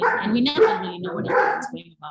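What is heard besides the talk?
dogs barking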